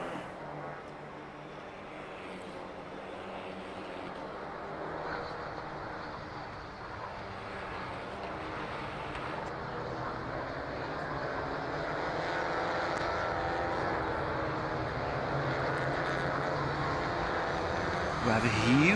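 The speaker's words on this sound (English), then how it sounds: "We have a huge airplane taking off around this circuit" A large airplane takes off near the Balaton Park race circuit, a low, distant engine roar that builds gradually in loudness under steady commentary.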